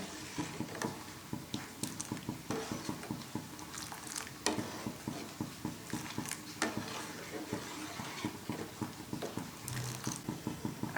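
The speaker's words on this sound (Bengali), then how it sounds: "এই ক্ষীর মিক্সটা দিয়ে অনবরত নাড়তে হবে" Kheer mix stirred continuously in a pot of milk: a close, steady run of rhythmic scraping and wet slapping strokes with soft bubbling underneath, repeating evenly and fairly quiet.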